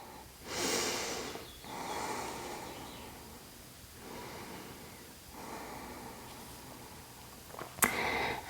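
Slow, deep breaths during a yoga forward fold, several long airy inhales and exhales heard close and soft, followed by a brief rustle and knock at the end.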